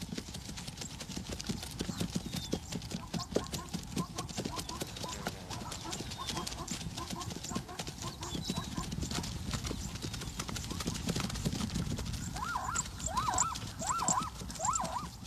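Wild horses, a group of stallions and bachelors, move in a dense rush of hoofbeats and scuffling alongside wild dogs, with yipping calls toward the end and a narrating voice over the noise.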